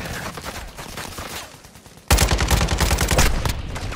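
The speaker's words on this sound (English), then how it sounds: "Where are you getting shot from?" Rapid bursts of gunfire in an online shooter video game, a quieter stretch of shots followed by a sudden loud, dense volley of automatic fire that continues to the end.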